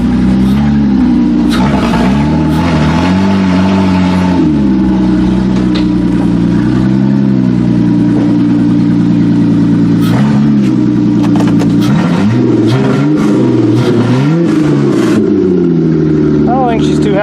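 A Toyota Camry race car engine runs rough at idle and revs unevenly, loud and close throughout, with a person talking over it.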